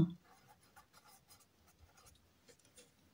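Pencil writing on paper, soft light scratching strokes in short irregular bursts, close and faint, after a brief low thump at the start.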